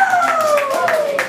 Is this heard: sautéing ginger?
no